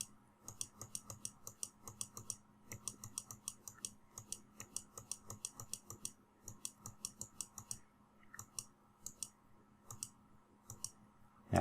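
A computer mouse clicks rapidly and quietly in irregular clusters during photo retouching with a heal tool, small sharp taps over a low steady room hum.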